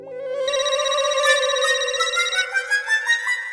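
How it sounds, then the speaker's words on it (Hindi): A telephone rings with a bright electronic warbling ringtone, loud and close, its repeated tones pulsing steadily, with no voices over it. "अरे आएगा ये देखो आ गया फोन।"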